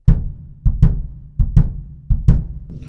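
Bass drum plays a samba pattern by itself: six deep, booming kicks, each strong beat followed closely by a lighter pickup stroke. The kicks are loud and close, and each one rings out briefly before the next.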